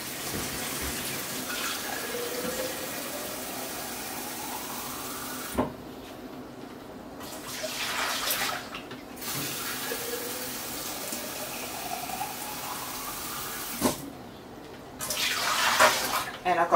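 Water pours and splashes into a Presto steam canner in several bursts, with clanks between pours and some background noise.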